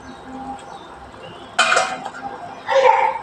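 A metal lid goes onto a pan of simmering Bengali fish curry with katla and okra, giving two clanking knocks over a low kitchen background, the second slightly louder.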